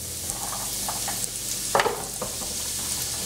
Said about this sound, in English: I'm gonna start by sauteing the sweet potatoes